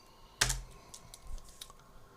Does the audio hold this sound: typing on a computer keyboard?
yes